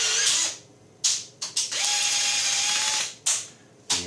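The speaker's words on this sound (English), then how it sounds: "Recently I got myself one of these, which is a rivet gun that goes into a drill" A drill-powered rivet gun, modified for one-handed use, whirs and ratchets in several loud bursts with short pauses between them, including one long sustained run; no voices.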